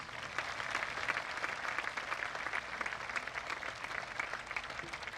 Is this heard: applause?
yes